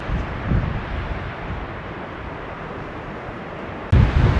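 Wind rumbles and buffets steadily across the microphone on a shaded mountain trail at Guadalupe Peak, with louder gusts at the start and a sudden stronger blast near the end.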